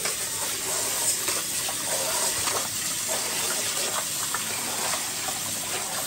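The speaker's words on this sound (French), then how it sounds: "Bien laver le riz, bien frotter." Rice being washed and rubbed by hand in water makes a continuous splashing, gushing wash with soft scrubbing bursts, close and steady, no voices.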